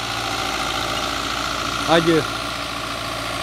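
A Belarus 820 4x4 tractor engine idles with a steady, even rumble throughout, and a voice cuts in briefly over it near the middle.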